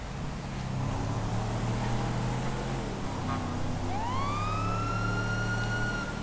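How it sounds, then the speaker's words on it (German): A police siren inside GTA 5 Online winds up over a steady low engine drone, rising into a sustained wail with strong harmonics that carries through the rest of the stretch, no voices over it. "Hast du auch Sirene?"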